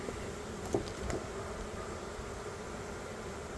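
Honey bees hum at an open hive during a spring inspection, a faint, even buzzing haze that holds steady throughout, with a couple of soft knocks near the start.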